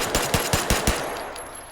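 Five rapid, evenly spaced gunshots from a firearm with a laser pointer, hip-fired in the H3VR virtual reality shooter, crack out close and loud, then a brief ringing tail.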